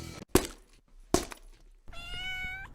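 A pet cat in a home recording studio, heard as two sharp knocks followed by a single clear, drawn-out meow near the microphone, with no talking.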